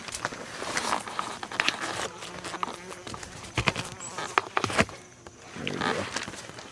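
Insects such as bumblebees and bald-faced hornets buzz inside a greenhouse in August, a dense, continuous drone with close passes swelling and fading, no talking.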